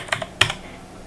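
Java code being typed on a computer keyboard, a few quick close keystrokes clicking in a short burst, with no talking.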